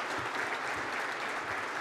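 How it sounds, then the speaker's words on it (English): Audience applause for the city council at a live State of the City event in a Portsmouth, Virginia hall, a steady dense clapping that fills the whole moment. "Let's give the City Council a round of applause over here."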